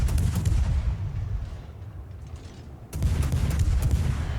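Heavy naval guns fire in World of Warships from the fast French gunboat Marceau. A deep booming salvo rumbles, drops to a lull, then a second loud salvo hits around three seconds in.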